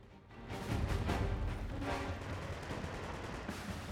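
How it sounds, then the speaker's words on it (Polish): Gunfire in Uncharted 2: a rising volley of shots and bursts, loud and dense at first, then a steady stream of quicker pops continuing to the end, with no talking. "Jest coś tam ktoś strzela jeszcze"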